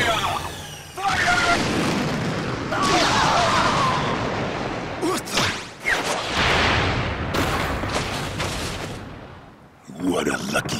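A barrage from a fleet of warships in Asura's Wrath, with dense booming and rumbling blasts that roll on almost continuously, punctuated by sharper cracks and short gaps, loud and close.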